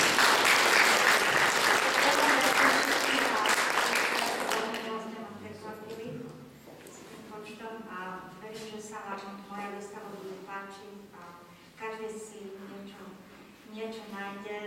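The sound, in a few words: audience applause at exhibition opening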